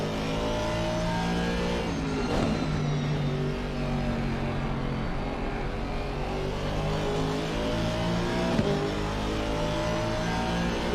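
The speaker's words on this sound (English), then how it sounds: "we hear him shift down, get that traction, get that throttle on" A race car in a sim racing game at Watkins Glen drones loudly and steadily, its engine note dropping on a downshift and then climbing again under throttle, with another shift heard near the end.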